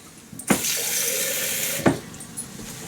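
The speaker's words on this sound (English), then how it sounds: "Rinse out your jar." A tap runs water into a jar of cheese for over a second, framed by two sharp clunks, with the splashing rinse sounding close and steady.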